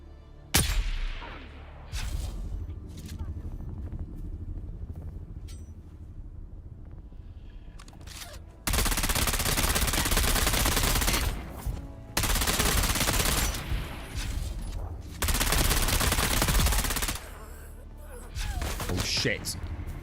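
Bursts of gunfire in the video game Dune: Awakening, loud dense volleys starting abruptly midway and continuing in heavy stretches with brief gaps, after quieter game ambience and occasional voices.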